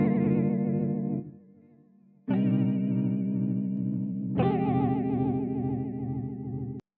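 A RetroFX multi-effect plugin's flutter section wobbles sustained synth tones with a quick vibrato, imitating a worn tape machine or lumpy pinch roller; three held notes, the second quieter and the last two louder, each cut off cleanly.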